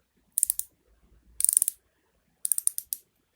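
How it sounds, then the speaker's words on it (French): A small reversible ratchet handle from an accessory kit is flipped and turned, giving three quick bursts of sharp, close metallic clicks separated by short pauses, with no voices. "Et elle est réversible, c'est un cliquet. Voilà, il y a un petit basculeur,"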